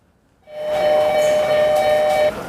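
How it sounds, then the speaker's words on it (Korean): A subway train pulls into a station platform during the crowded morning commute, a loud rumbling swell with a steady high-pitched whine that sustains for about two seconds and then cuts down abruptly. "지금 열차가 들어오고 있습니다."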